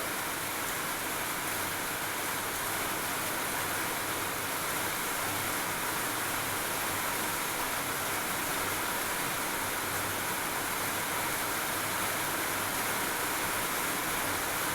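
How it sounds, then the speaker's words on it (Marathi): Heavy rain pours down in a dense, unbroken wash of hiss that stays even and loud for about fifteen seconds, with no voices. "तर पावसाला सुरुवात झाली आहे."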